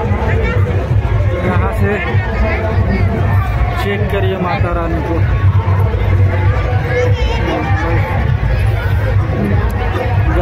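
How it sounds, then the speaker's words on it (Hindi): Dense crowd hubbub at a busy Vijayadashami (Dussehra) fair in Dharamjaigarh, a constant loud babble of many voices with a speaker talking close over it throughout. "भीड़ बहुत ज़्यादा है।"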